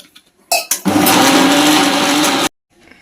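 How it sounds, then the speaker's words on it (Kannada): A kitchen mixer grinder blending spice paste with tomato and a little water, with two short pulses and then a loud continuous whir of about two seconds that stops abruptly. "ಸ್ವಲ್ಪ ನೀರು ಹಾಕಿ ನುಣ್ಣಗೆ ಗ್ರೈಂಡ್ ಮಾಡ್ಕೊಳ್ಳೋಣ"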